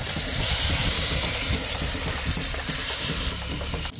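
Chicken pieces sizzling steadily in hot oil with bacon on a stove, a dense continuous frying hiss with a low rumble underneath, close and fairly loud, with no voices.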